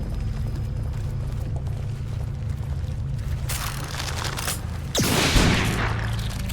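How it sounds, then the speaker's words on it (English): Dead baby creatures bursting apart under a flash of light in The Evil Within, a loud eruptive boom with a sweeping rush over steady low game ambience, no talk. "the dead babies exploded because of the light"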